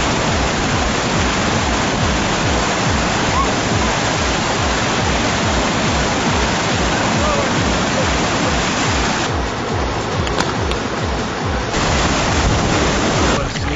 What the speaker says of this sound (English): The James River, all that white water